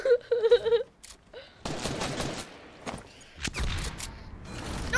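Bursts of turret gunfire in the Fortnite video game, rapid crackling volleys in short clusters with pauses between, mixed with game effects and a brief high tonal sound at the start.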